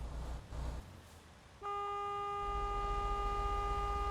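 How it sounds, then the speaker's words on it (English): A truck horn blares in the American Truck Simulator video game, a sustained loud tonal honk that cuts in after a stretch of low engine rumble and holds steadily to the end. "You honked at me."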